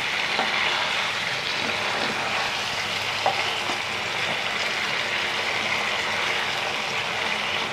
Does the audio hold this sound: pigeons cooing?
no